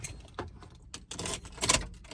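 Car keys jangle and clink in short bursts at close range while someone gets ready to start the car, with a few louder metallic rattles.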